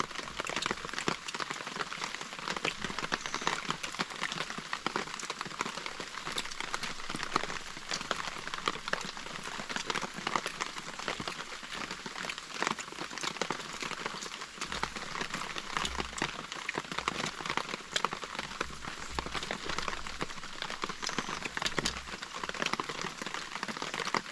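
Steady, dense rainfall pattering on a surface, a continuous hiss with no breaks, fairly loud and close throughout.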